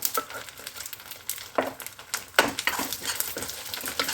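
Powdered edible gum (gond) fries in ghee with a steady sizzle and crackle, as scattered stirring scrapes and clinks come and go, close up and with no talk.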